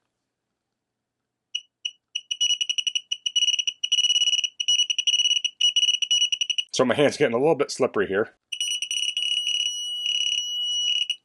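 A GOYOJO digital torque adapter beeps rapidly in quick bursts that turn into a continuous tone on reaching its 2.5 setting, with someone speaking briefly in the middle.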